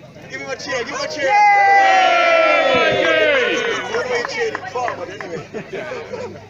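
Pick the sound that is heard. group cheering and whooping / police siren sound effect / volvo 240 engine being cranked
group cheering and whooping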